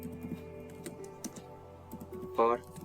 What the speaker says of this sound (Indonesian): di sini kita ketikkan lagi switch port